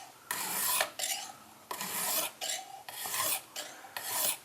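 A knife blade is sharpened on a Lansky Deluxe guided sharpening system in a series of about six close, crisp rasping strokes, each a short scrape of stone on steel with brief gaps between them.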